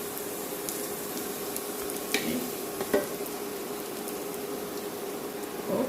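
Onions are stir-fried in a pan for fried onion chicken gravy, giving a steady, moderate sizzle with a few faint scrapes and clinks of stirring over a constant hiss.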